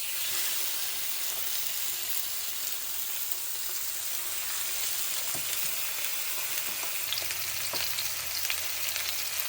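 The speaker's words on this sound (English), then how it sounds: "So what I'm going to do with the fillets is I'm going to brown each side." Fish fillets browning in a hot frying pan give a steady, close, even sizzle throughout, with a few faint clicks and bumps beneath.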